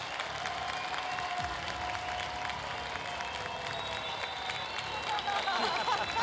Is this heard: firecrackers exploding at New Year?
no